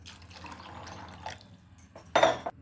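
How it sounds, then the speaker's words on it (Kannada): Water poured into a pot of cowpeas with cut agase (sesbania) pods for bassaru, a short splashing pour near the end after quieter kitchen clatter. "ಇದಕ್ಕೆ 2 ಲೋಟ ನೀರು ಹಾಕಿ ಚೆನ್ನಾಗಿ ಬೇಯಿಸ್ಕೊತೀನಿ"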